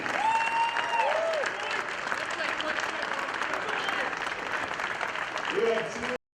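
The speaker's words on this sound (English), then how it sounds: "Let's give them a round of applause." Crowd applause following a rugby match in the 2015 ACRC Bowl Series, a dense sustained roar of clapping lasting several seconds with faint voices mixed into the steady wash.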